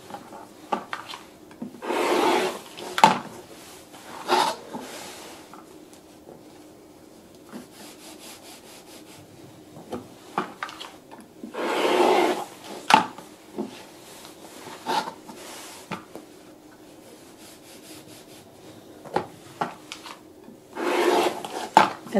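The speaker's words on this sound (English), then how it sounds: "use our rotary cutter to trim off the backing and the battleizer" A rotary cutter trims quilt backing and batting in repeated rasping strokes, each a gritty rub lasting about a second, separated by quiet pauses and light handling clicks, close up with no talk.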